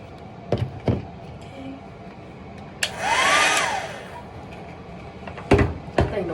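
A handheld hair dryer switched on during hair styling runs as a steady, fairly loud whoosh for about a second, with clicks and handling knocks before and after.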